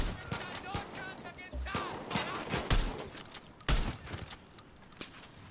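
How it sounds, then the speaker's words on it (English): Shotgun blasts from the video game Far Cry 6, several sharp booming shots spaced a second or so apart amid a busy gunfire-filled soundscape, with people talking over the action. "Dude, I love this shotgun."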